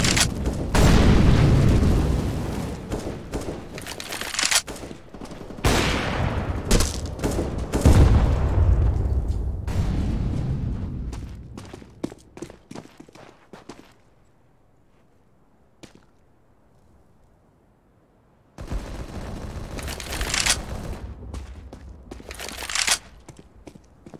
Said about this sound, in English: Throwing flashbang. Grenade. Throwing fire.